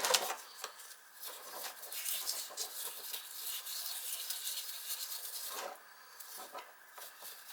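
Oil burner parts are scrubbed with a throwaway brush and carburetor cleaner, giving quiet, close, rapid bristly strokes in an uneven back-and-forth rhythm with short pauses.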